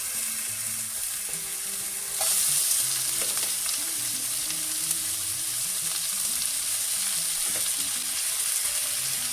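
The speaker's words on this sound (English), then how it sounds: "leave it to saute for about 2 minutes" Red onions, sweet pepper and tomatoes sautéing in a pan give a steady close sizzle that jumps louder after about two seconds, with occasional stirring clicks and no speech.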